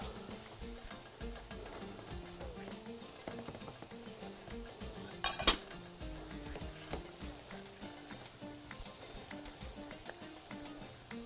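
Food being stirred in a pot while cowpea salad is prepared, with steady soft sizzling and scraping strokes throughout, one sharper clink midway, no talk.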